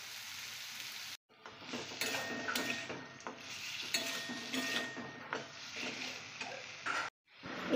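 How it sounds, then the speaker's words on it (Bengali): Potato, eggplant and lentil dumplings frying together in a pan for a tangy dried-mango dish, giving a steady, close sizzle with stirring scrapes that briefly drops out twice. "আর তারপর ভেজে রাখা আলু, বেগুন, বড়ি দিয়ে একসাথে ভালো করে ভেজে নিতে হবে।"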